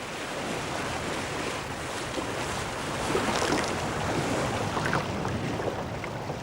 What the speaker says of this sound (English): darting through the bow waves of the ship